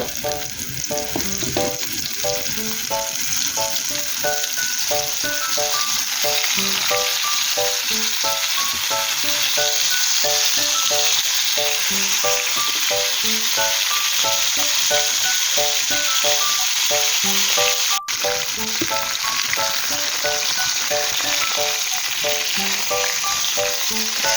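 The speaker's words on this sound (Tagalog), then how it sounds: "Bali, dito na lang ako na mag-prito sa ating pinprituhan." Fish fillet frying in a pan gives a steady, loud sizzle throughout, with faint music playing underneath and one sharp click partway through.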